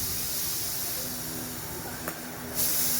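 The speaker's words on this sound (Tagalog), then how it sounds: "Dapat may singaw dapat yan kasi may hangin sa loob yan, may pressure yan." Air hisses from a pressurized part of a Chevrolet Sonic during home-service repair, a steady low hiss that rises into a sharper, brighter burst near the end.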